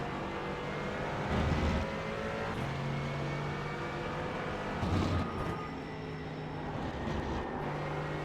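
GT4 race cars lapping Mugello in the iRacing simulator, engines revving and shifting through gears with surges of throttle as cars pass close by, loud and continuous with no talk.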